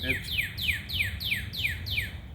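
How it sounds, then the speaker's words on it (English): A bird repeats a bright, descending chirp about seven times in a regular rhythm, loud and close over a low background rumble. "that bird is really loud"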